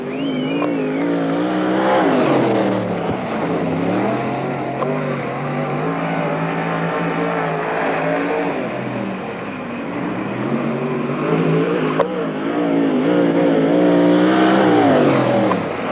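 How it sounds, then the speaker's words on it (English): Sprint car powered by a 410 RSM racing engine at a NARC sprint car event in Marysville, California, revving hard with rising and falling engine pitch through a timed run, loud and continuous with no talk. "92 Tognati, 410 RSM racing engine motor for Al Young."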